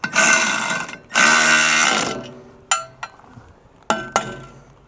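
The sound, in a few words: 9/16 ratchet and wrench tightening bolts on log splitter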